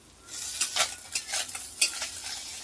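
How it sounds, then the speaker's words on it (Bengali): Small chuno fish frying in a pan with pumpkin nearby, giving a quiet sizzle broken by several scraping stirs of a utensil against the pan, close and without talk. "আমি এই যে মাছ ভাজাটা আমার রেডি হয়ে গেছে"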